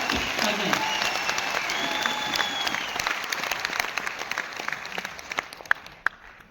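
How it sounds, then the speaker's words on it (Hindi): Loud applause from an audience at a motivational business event, dense clapping already under way with a voice speaking over it, gradually thinning toward a few scattered final claps. "जोरदार तालियां होनी चाहिए"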